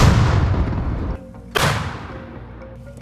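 Two heavy blasts from an American M119 howitzer in a forest, the first booming out over the opening second, then a second sharp report followed by a long rumbling decay into quiet.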